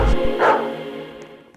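Dog bark from a dog button in the Roblox game Flood Escape 2, a single short bow-wow followed by a fading ringing tail, close and moderately loud.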